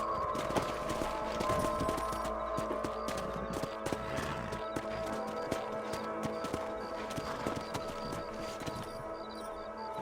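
Horses gallop in Red Dead Redemption, a busy rhythmic patter of hooves with an occasional whinny, steady at moderate level for the whole stretch under a soft game soundscape.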